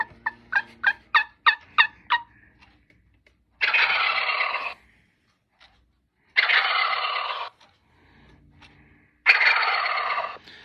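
Wild turkey gobble chiming from a North American gamebirds wall clock: a rapid run of about eight sharp pulses opens, then three loud, rattling gobbles of roughly a second each follow with short pauses between, close and clear with no voices.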